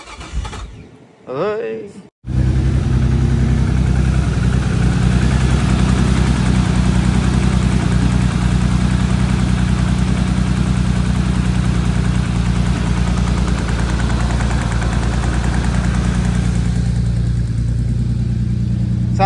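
A Nissan R33 Skyline engine cranks and catches on a freezing cold start after sitting two days, then settles into a loud, steady, rumbling idle close by, with a brief voice heard just before it fires.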